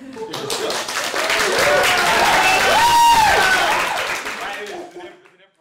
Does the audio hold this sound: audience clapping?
yes